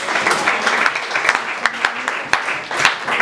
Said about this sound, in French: Applaudissez les Seigneurs dans l'église là.